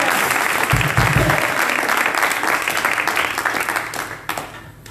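An audience at a church gathering applauds brother Tony, with dense, sustained clapping that stays loud for about five seconds and eases off slightly toward the end.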